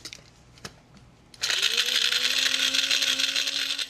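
An electric spice grinder whirs loudly into life, grinding dried shiitake mushrooms and oregano, its motor pitch rising and settling into a steady, close drone after a couple of light knocks.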